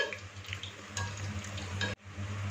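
Pakoras frying in hot oil over a lowered flame, a steady close sizzle and bubbling with a low hum beneath and a brief break near the end.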